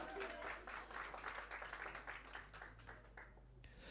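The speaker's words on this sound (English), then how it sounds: "Please, can we give her a round of applause, Victoria?" A workshop audience gives a presenter a round of applause, soft, steady clapping from a modest crowd heard at a distance and gradually thinning toward the end.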